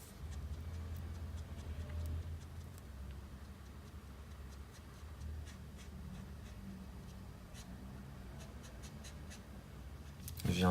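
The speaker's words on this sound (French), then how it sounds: "Je commence par colorier sa peau avec une couleur beige classique." A beige Copic-style marker colors skin on paper with soft, continuous close scratchy strokes and faint taps under a low steady hum, ending in a brief louder knock.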